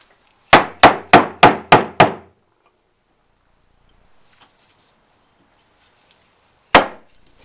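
A hammer drives a part into a blower during a rebuild: six sharp, evenly spaced metallic-wooden strikes in quick succession, a long quiet pause with faint handling, then one more single loud blow.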